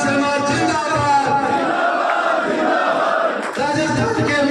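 A crowd at a BJP political meeting in Nagaur, Rajasthan cheers and shouts loudly and steadily, a dense roar of voices carrying through with a brief dip near the end.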